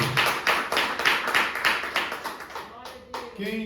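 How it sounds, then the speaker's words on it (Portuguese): A church congregation claps in praise of Jesus, a dense burst of rhythmic, fairly loud applause that thins and slows toward the end, with voices rising over the last moments. "Jesus merece aplauso"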